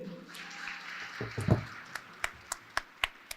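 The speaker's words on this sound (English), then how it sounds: "Clap for them." Audience at a women in agribusiness conference panel starting to clap, a brief swell of scattered claps settling into a few sharp, distinct single claps spaced out near the end.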